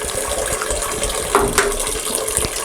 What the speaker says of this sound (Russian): Уже, наверное, минут 30 сливает воду с водонагревателя.